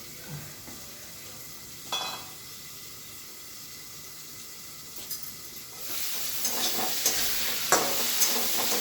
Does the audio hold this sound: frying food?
yes